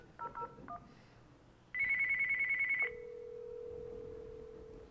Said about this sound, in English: One ring.